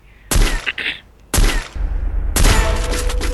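Gunfire in a battle royale shooter: three loud, close bursts of rapid shots, each cutting in sharply and trailing off, the last one running longer, with no talk.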